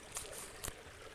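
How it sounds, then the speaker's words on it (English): Water runs through a stream near Mission Dam in Mission Trails Regional Park, a steady, faint wash with a couple of brief splashy bursts. "Just a satisfying sound of water running through."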